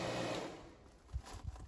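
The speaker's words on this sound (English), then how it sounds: "When they equalize, I turn my vacuum pump on." A vacuum pump on a residential refrigerant recovery setup runs with a steady mechanical hum and whine, close and fairly loud, fading slightly before rougher pulses near the end.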